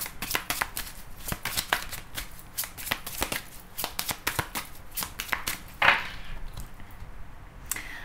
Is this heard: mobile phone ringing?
no